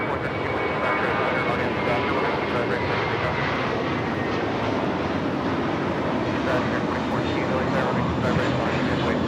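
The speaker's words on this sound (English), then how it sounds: "This is a Blue Mentality taking off to Fort Lauderdale. The A321 JetBlue Flight 100." A JetBlue Airbus A321 taking off at LAX for Fort Lauderdale produces a continuous, powerful jet engine roar, loud and steady across the whole stretch, with speech over it.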